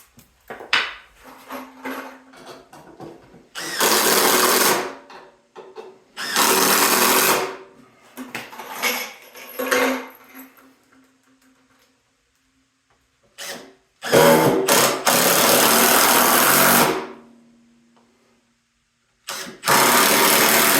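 A power driver sinks screws into an air compressor tank in a workshop, with loud, harsh whirring bursts lasting a few seconds each, separated by quieter handling noise and pauses.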